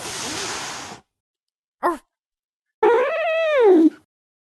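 Dogs in the Piper's Pet Cafe video game make a breathy yip, a short whimper and a longer rising-then-falling whine or howl. Each is a separate clear call with silence between them.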